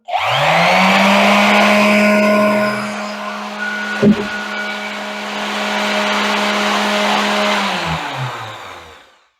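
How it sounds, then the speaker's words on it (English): A power sander, an electric dry sander, whines loudly and steadily, its pitch dipping briefly with a clunk midway, then winding down and stopping at the end. "This is the electric dry sander."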